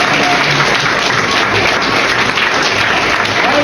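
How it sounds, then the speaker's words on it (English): A theater audience at a performance of the play "The Curious Savage" applauds steadily, a dense, loud wash of clapping that holds evenly throughout with no pauses. "Give him a round of applause."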